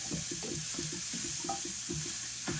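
Garlic cloves sizzling in a frying pan as they are stirred, with a steady bright hiss under repeated soft scraping and clicking strokes of the utensil, close up and with no talking.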